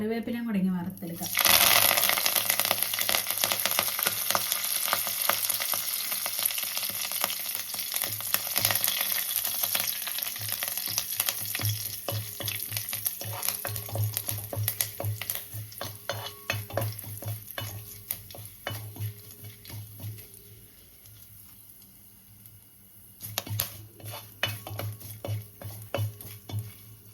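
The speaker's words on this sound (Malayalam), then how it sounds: "ഇനി നമുക്ക് നമ്മുടെ കറിവേപ്പിലയും കൂടെ ഇങ്ങനെ വറുത്തെടുക്കാം." Curry leaves fry in hot oil, a loud sizzling burst at the start that settles into a steady crackle and then fades. A spoon or utensil clinks now and then, and a voice may be faintly present.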